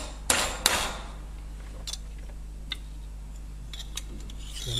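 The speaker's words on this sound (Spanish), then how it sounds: "marcaremos con un punzón dónde va cada uno" Center punch being struck with a hammer to mark drill holes for a freezer door handle repair at home: two sharp metallic taps close together near the start, then a few faint ticks over a steady low hum.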